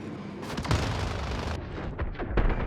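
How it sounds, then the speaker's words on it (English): A vehicle blows up in Call of Duty Warzone: a loud, dense burst of booming blast noise that rumbles on for a couple of seconds, followed by a few sharper secondary cracks and thuds. "Let's take a look at an example where I'm almost at full health and my vehicle gets destroyed."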